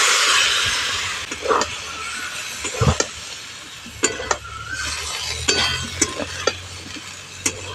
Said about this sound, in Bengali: খুব ভালো করে মিশিয়ে নেব